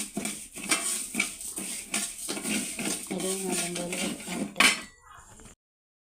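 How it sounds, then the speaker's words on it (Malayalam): Metal spoon scraping and clinking against a pan as rice is roasted and stirred over a wood-fired stove, close and irregular, with a brief spoken word before the sound cuts to silence. "അപ്പം ഞാൻ അരി വറുക്കുകയാണ്"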